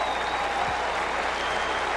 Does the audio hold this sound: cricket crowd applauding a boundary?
yes